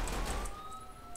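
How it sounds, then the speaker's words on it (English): A steady GTA 5 police siren tone from a replacement siren pack holds at moderate loudness, with faint brief pulsing blips beneath it and no talking. "this is basically the Siren Pack"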